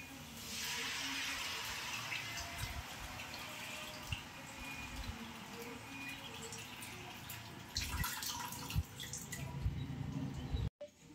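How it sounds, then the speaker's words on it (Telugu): Tamarind fish broth is poured into a pan, a faint steady liquid trickle and splash with soft drips and light clinks of utensils, ending with a sharp knock. "ఇప్పుడు మనం ఏం చేద్దామంటే పులుసు పోసేసుకుందాం."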